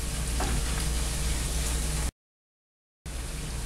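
A flat covered stirrer works through sausage chunks, butter and flour cooking into a roux in a pan, giving a steady close sizzle with scraping, cut by a brief silent gap before the frying resumes.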